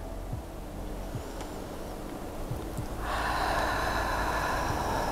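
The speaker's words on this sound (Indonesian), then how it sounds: "Inhale, tarik nafas. Buang nafas." Deep breathing during a prenatal yoga class for the second trimester, soft inhales followed by a louder, sustained airy exhale that fills the last couple of seconds, heard up close without talk.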